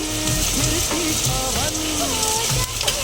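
Chopped garlic, ginger and green chilli sizzling in hot oil with lightly fried onion for egg tarka, a dense, loud, steady crackle close by with a faint stirring clatter, no talking.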